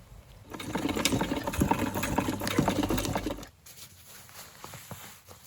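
Hand-cranked sewing machine stitching a skirt waistband, a close, busy mechanical whirr and rapid ticking for about three and a half seconds before stopping, leaving quiet faint rustles.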